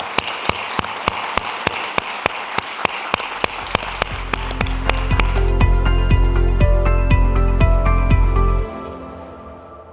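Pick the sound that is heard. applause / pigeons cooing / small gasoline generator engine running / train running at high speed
applause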